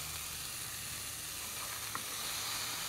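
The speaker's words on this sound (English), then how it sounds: "And you just saute this just 2 to 3 minutes." Ingredients sauté in a pan over reduced heat, a soft steady sizzle and hiss with a faint stirring tick, quiet and even throughout.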